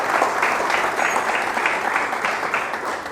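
A church congregation claps together during a worship service, a dense, loud wash of applause with a loosely pulsing rhythm throughout.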